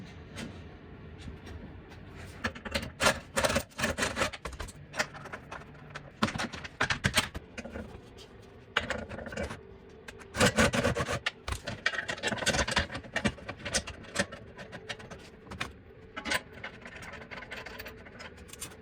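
Nuts being threaded onto the skid plates of a 2024 Jeep Wrangler by hand and tool, a faint, irregular series of metallic scrapes, clicks and rattles close by with uneven bursts of activity.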